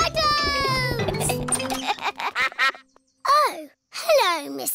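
Mrs. Duck quacks in a Peppa Pig cartoon, several nasal calls in quick bursts after a busy stretch of cartoon voices and music, close and fairly loud.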